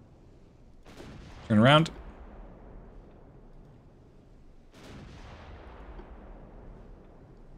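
Naval gunfire from warships in the game Ultimate Admiral Dreadnoughts, historical German destroyers in 1940: a deep thudding salvo near the start and another later, each trailing into rumbling decay, with a short spoken phrase between.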